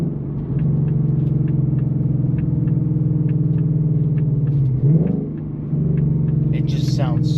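A Ford Mustang 5.0 with its resonator deleted drones steadily at low pitch, its exhaust rumbling and briefly rising and dipping as the gears shift down, ending with a short sharp burble.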